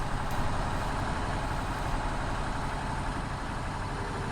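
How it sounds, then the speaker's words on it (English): A tractor engine in Farming Simulator 19 runs steadily with a dense, continuous low rumble at an even level, close and loud, with no talking over it. "Seems like a really nice tractor."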